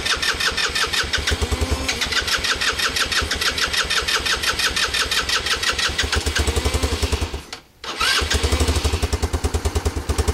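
An old derelict engine with fuel still in the tank cranks and fires, then runs rough and loud with a rapid, pulsing beat. It dips briefly near the end before picking back up, close by and alone.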